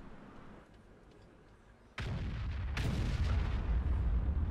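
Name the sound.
tank cannon firing a shot in World of Tanks video game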